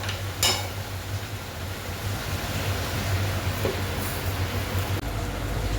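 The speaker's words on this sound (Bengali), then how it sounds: "দেখো, এবার মাছটা ভেজে নিচ্ছি।" Fish, likely poa or bhola, frying in a pan with a steady, close sizzling hiss that runs throughout, broken by an occasional faint clink.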